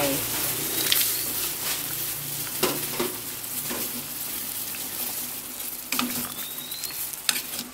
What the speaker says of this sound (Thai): แล้วก็ใส่มะระลงไป